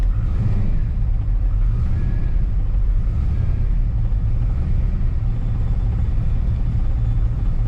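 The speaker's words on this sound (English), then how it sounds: "Hear all that rattling? Yeah, that's engine vibration." A Fox Body car engine idles with a steady low rumble and constant rattling from engine vibration throughout, loud and close, with no voices.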